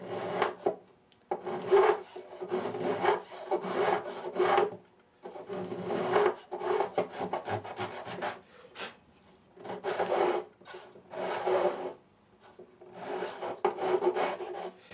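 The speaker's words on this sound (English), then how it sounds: "With a nice gentle motion, we can just breeze those frets down to their final length." A file rasps rhythmically across new fret ends on a Martin D-35 acoustic guitar, trimming them flush in repeated gentle strokes with brief pauses between, close and fairly quiet.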